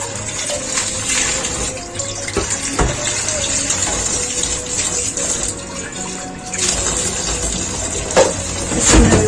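A kitchen tap runs cold water over cooked spaghetti in a strainer, a steady loud gushing stream that continues throughout, with splashing shifts as the pasta is moved around under it.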